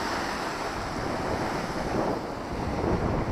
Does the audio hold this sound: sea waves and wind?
yes